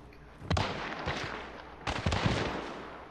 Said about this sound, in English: That was my alert trip mine.